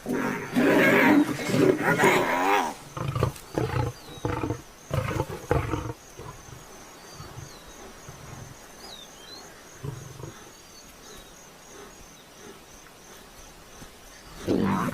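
Lions and hyenas clash in a fight, with loud, harsh roars and snarls bursting over the first six seconds, then fading to a quiet wild backdrop of insects before another roar swells at the end.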